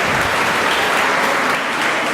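An audience at a school poetry event claps to welcome a student, a brief burst of loud, dense applause from many hands, steady throughout with no speech.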